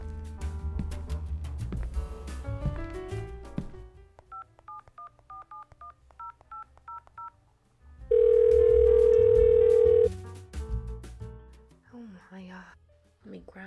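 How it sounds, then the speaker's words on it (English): A phone call is placed. Quick DTMF keypad tones come first, then a long steady ringback tone, with household chatter and voices around it before and after. "I'm going to try calling her just to see if she isn't getting text notifications"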